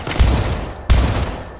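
Gunfire in the video game Syndicate: two dense bursts of shots, each striking hard then trailing off, loud and close with no talking.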